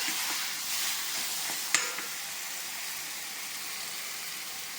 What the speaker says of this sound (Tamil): நல்லா மிக்ஸ் பண்ணிடணும் இந்த புதினாவையும் இந்த எண்ணெயையும்